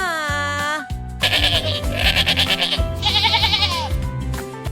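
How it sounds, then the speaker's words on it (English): A sheep on a farm bleats in several wavering, nasal cries, loud and close, with a brief sustained tone before the calls and no talk over them. "It's a sheep. Sheep say ba ba."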